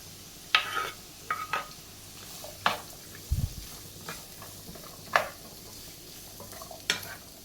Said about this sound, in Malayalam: ഇനി നമുക്ക് ഇതേ എണ്ണയിലേക്ക് കട്ട് ചെയ്ത് വെച്ചിരിക്കുന്ന മത്തങ്ങയായിട്ട് വഴറ്റിയെടുക്കാം